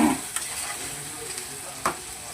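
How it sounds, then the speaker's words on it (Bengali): Onions and potatoes frying in oil and being stirred, a soft steady sizzle broken by a couple of brief utensil scrapes, close and without speech. "এবার পেঁয়াজ আর আলুটাকে একটু ভালো করে নেড়ে চেড়ে নেবো"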